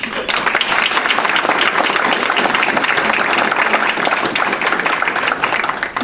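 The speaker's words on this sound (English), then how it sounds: "So let's give those kids a clap." Dense, steady applause from an audience for international business students at an economic outlook event, loud and sustained throughout with no voices over it.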